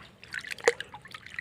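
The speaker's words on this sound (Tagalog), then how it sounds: "bigla na lang may tumagas na na tubig galing sa taas. Sabaw ng buko." Coconut water leaks from a hole in a coconut, a brief, faint trickle of small drips and splashes, with one sharper drop in the middle.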